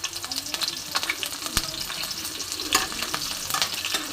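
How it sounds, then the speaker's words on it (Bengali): Black cumin seeds and slit green chillies crackle as they hit hot oil for tempering, a loud, busy sizzle with sharp pops and stirring clatter right up close. "কালো জিরে দিলাম খুব সামান্য পরিমাণে, দিচ্ছি লঙ্কা চেরা"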